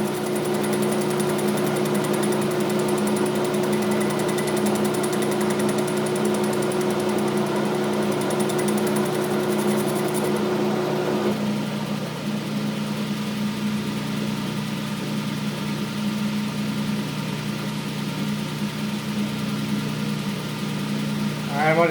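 A Logan lathe takes a cutting pass over a weld during a worm gear repair, a steady machine hum with a sustained tonal whine that shifts partway through, close and continuous with someone talking over it.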